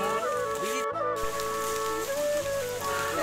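Rain falls steadily on a street during a rainy outing, a continuous broadband wash of drops with tonal background hum running under it and a brief dropout near the one-second mark.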